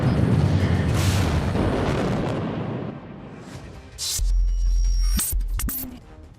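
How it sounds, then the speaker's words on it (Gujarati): A missile strike on a command center in the Russia-Ukraine war produces booming explosive blasts: a sustained heavy rumble, then a sharp loud burst with crackling debris and noisy distortion. "જ્યારે મિસાઇલ પુલ સાથે અથડાય છે ત્યારે કમાન્ડ સેન્ટરમાં વિસ્ફોટ"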